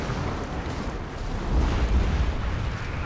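Demolition blast in SimCity 4 knocking out a power line, a loud sustained low rumbling boom that swells midway and fills the whole clip, with no talk.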